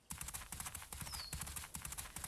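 Horse hooves clip-clop at a steady, even walking rhythm in a horse riding video game, close and continuous, with faint game sounds but no clear talk.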